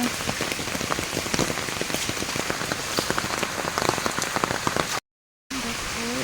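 Steady storm rain patters on surfaces nearby in a village, with scattered distinct drops tapping in a continuous shower, briefly cut to silence near the end.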